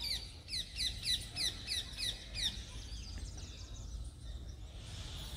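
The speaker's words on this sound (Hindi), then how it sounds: "आपको सुनाई दे रहा होगा चिड़ियों की आवाज़।" Birds chirp around a temple in a quiet setting, a rapid series of about eight bright, repeated calls in the first half, then softer scattered chirps over a faint outdoor background.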